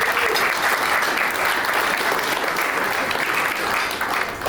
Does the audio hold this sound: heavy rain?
no